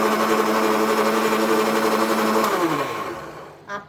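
A blender runs on a date milkshake with milk and ice, giving a steady, close motor whir that holds for a few seconds before winding down and stopping.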